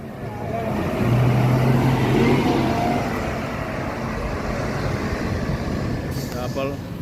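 A Scania double-decker bus passing on the road, a broad engine rumble that swells as it goes by and then holds steady, with voices talking over it.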